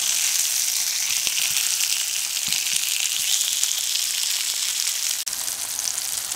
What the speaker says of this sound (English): Once your sausage is cooked on one side, just go ahead and flip it and cook the other side.